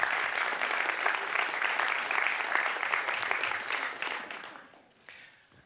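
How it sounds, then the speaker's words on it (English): A crowd applauds steadily for several seconds before the clapping trails off into near silence. "So could we have a round of applause for Fabiola?"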